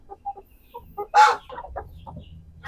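A heavy Sussex rooster of about four kilograms clucks on a farm, giving a string of short, close clucks with one louder squawk in the middle.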